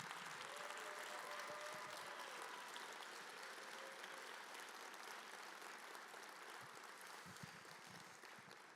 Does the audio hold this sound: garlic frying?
no